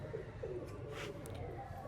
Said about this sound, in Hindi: ये इंसान कबूतर है और होमर कबूतरों की तरह है